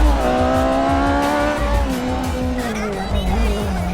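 A Lancia race car in a racing video game has its tyres squealing under heavy braking. A sustained, wavering screech sits over the steady drone of the engine for several seconds.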